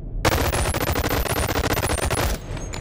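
Rapid automatic gunfire from the VR shooter Boneworks, a dense, loud burst of many shots fired in quick succession for a couple of seconds before cutting off abruptly.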